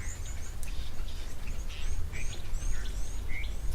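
Birds call at a waterhole, scattered short chirps and whistles sounding faint and somewhat distant over a constant outdoor background hiss.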